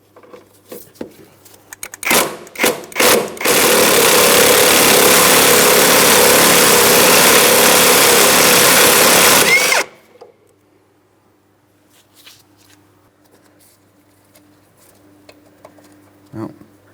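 A 13mm mounting bolt is removed with a swivel socket on the front lower control arm of a 2003-2007 Cadillac CTS. A few short bursts lead into about six seconds of loud, continuous whirring, then near silence with faint clicks.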